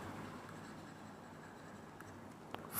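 A maths problem is written out by hand as a faint, continuous scratching with a couple of small taps near the end. It is quiet, and no one speaks.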